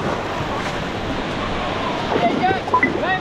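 Ocean surf at a beginner surfing session, a broad steady wash of breaking waves with wind buffeting the microphone and faint voices calling over it.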